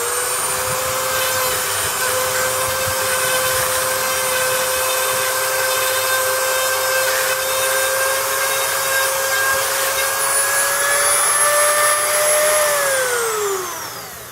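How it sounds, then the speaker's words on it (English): A Dremel rotary tool fitted with a small piece of sandpaper grinds the ends of a galvanized fence pole, a loud, steady high-pitched whine held for a long stretch before it winds down at the end. "That's a smaller piece of sandpaper for the Dremel tool."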